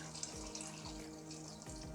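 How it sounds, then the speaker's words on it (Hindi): Water is poured into a pot of mutton kofta curry, a soft, faint, continuous splashing trickle with no talk. "ये 2 कप मैंने पानी ऐड कर दिया है।"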